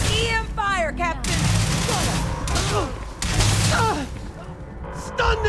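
EM weapon fire in a Starfield firefight during an attack on New Atlantis: dense, continuous sci-fi gunfire with zipping, warbling energy bursts and thuds, loud and close, with a voice shouting over the barrage.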